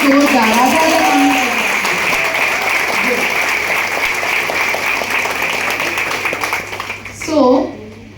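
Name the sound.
audience applause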